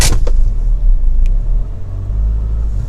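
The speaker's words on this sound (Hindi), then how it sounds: "जब हम पैडल को प्रेस करेंगे" A used car's engine rumbles close by, holding a low steady idle-like drone with slight swells as the accelerator pedal is pressed, no clear high rev climb, running alone without talk.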